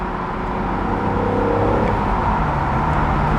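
A 2007 BMW Z4 M Roadster engine pulling through the revs while driving, a loud, close, sustained drone with rising harmonic tones and no talk.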